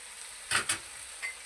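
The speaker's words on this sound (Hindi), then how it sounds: "अब मैं मिक्स कर रहा हूँ सब्ज़ धनिया इसके अंदर" Fresh coriander is stirred into taro root curry in a hot pan, with a couple of quick scraping swishes over a soft, steady sizzle, close by and without talking.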